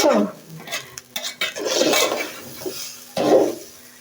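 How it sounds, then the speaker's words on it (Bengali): Fine-grain white pulao rice being stirred in a pot with a spoon or spatula, giving irregular scraping and rustling bursts with soft clinks against the pot, close and moderately loud. "এটা দিয়ে নাড়তে আবার একটু সুবিধা পোলাও নাড়তে সুবিধা"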